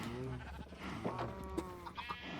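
Sheep bleating in the video game Minecraft, several close, wavering bleats in quick succession at a moderate, fairly quiet level, with no talking.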